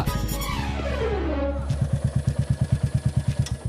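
A new motorcycle runs close by, its engine settling from a rising rev into a steady, loud thumping idle with evenly spaced pulses.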